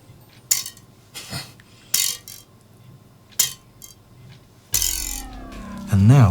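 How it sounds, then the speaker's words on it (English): A metal kitchen whisk is struck and rattled as a horror sound effect: a few sharp, ringing metallic hits spaced about a second apart, then a longer scraping clatter with a rising metallic whine, loud and close. "So the first item of the day is a whisk."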